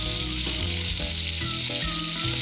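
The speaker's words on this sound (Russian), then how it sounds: "Здесь уже мы можем добавлять нашу курицу. Это шипение, ворчение я обожаю." Chicken sizzles loudly in a hot frying pan, a dense, continuous hiss and crackle that fills the whole stretch with no talking.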